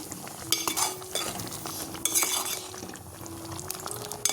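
A spoon scrapes and clinks against a pan as eggplant is stirred into a Kerala-style prawn curry, with soft repeated stirring strokes, faint sizzling and light metallic taps close by, no voices.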